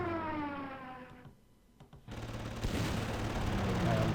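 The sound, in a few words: bombing attack in video game Panzer Corps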